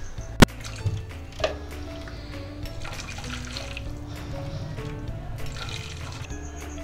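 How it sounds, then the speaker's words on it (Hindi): Chicken broth (yakhni) for Turkish soup pours through a strainer in a kitchen with a steady, soft liquid flow and a few sharp clinks near the start, no talking. "यखनी को हमने छान ली है"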